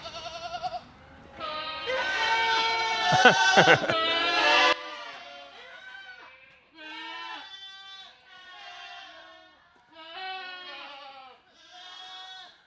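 Loud overlapping bleating from a flock of sheep and goats on a farm, a crowded chorus at first, then separate drawn-out calls with brief pauses between them.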